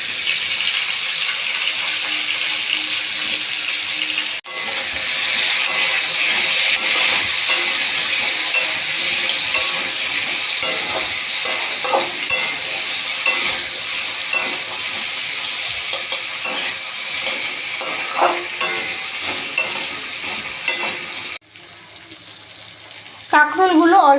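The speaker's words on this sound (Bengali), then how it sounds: "কাঁকরোলগুলো অল্প ভাজা ভাজা হয়ে এসছে, হাফ ডাল মতন হয়েছে।" Pointed gourd (kakrol) seasoned with salt, turmeric and a little chili powder sizzles steadily in a pan, with occasional stirring scrapes. The frying is loud and continuous for a long stretch, then quietens briefly near the end.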